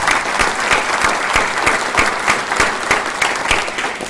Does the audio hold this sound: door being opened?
no